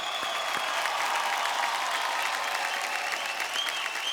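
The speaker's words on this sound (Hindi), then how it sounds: "तालियां हो जाएं" Sustained audience applause on a folk singing reality show, a continuous wash of many hands clapping at a steady level, moderately distant and without voices on top.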